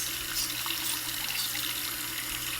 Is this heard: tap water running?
yes